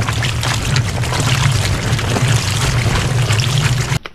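Water from a tap pours steadily into a basin being filled for washing laundry, a loud continuous splashing rush with a low gurgling undertone that stops abruptly near the end.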